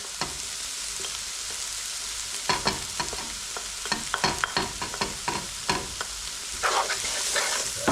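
Spices stirred into Kerala fish curry with panga (basa) fish steaks and curry leaves frying in a pan: steady close sizzle under irregular scraping stirs that cluster and grow busier toward the end, with no talking.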